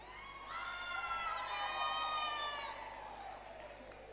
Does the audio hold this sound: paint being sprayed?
no